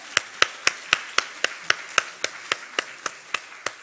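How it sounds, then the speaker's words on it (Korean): Church congregation clapping during a prayer meeting, a sparse, regular run of crisp individual claps at an even beat, close and moderately loud, with little else in the background. "박수 한번 해주세요."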